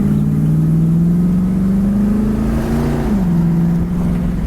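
A 1967 Pontiac Firebird convertible's 326 four-barrel V8 revving loud and close: a deep throaty roar that climbs and falls, then rises again before easing back.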